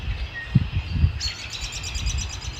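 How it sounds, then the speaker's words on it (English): Birds chirping at sunset in Arkansas, with a few close low rustling sounds and then a quick run of repeated high chirps against a faint wash of distant calls, and no one speaking. "These birds have been going absolutely nuts."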